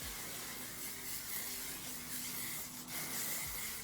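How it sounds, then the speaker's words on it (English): Hairspray hisses from an aerosol can onto styled hair, a continuous airy spray sound lasting several seconds at close range. "I'm just gonna spray it one more time."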